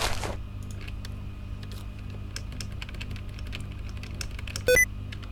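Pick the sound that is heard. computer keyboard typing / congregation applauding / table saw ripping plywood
computer keyboard typing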